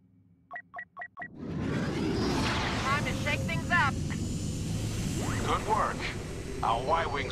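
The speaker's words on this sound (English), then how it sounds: "Key reinforcements are here. Y-wing bombers." Y-wing bombers roar overhead on Endor in Star Wars Battlefront II, a loud sustained engine rush after a few short beeps, with blaster-like zips and voices talking over it.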